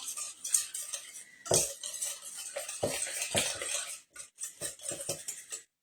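Apple madeleine cake batter being stirred in a bowl, a utensil scraping and clinking against the sides in an uneven run of close, moderately loud strokes, with no talking.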